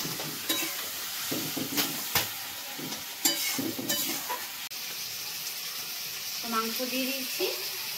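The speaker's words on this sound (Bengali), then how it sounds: "সব মশলা এবারে কষাবো হালকা করে, সুন্দর করে, তারপরে মাংস দেবো" Spices being sautéed in a wok before meat is added, a low sizzle broken by repeated scraping and stirring strokes of a spatula, close and moderately loud.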